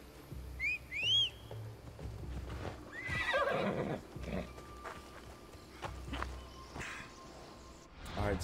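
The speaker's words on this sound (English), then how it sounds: "Where's my horsey?" A horse in Assassin's Creed Odyssey gives several whinnies and snorts while hooves clip-clop at a walk, with whistles and game ambience around it, fairly close and moderately quiet.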